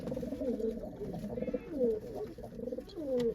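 Several pigeons cooing close by in repeated low, throaty rolling calls that overlap one another steadily.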